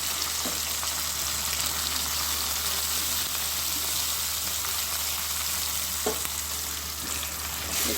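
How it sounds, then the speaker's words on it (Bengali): Steady, continuous sizzling of soaked rice frying in hot ghee with garam masala, with occasional faint stirring scrapes. "চালটা এই ঘি আর এই গরম মশলা এর মধ্যে সুন্দরভাবে ভাজা হবে।"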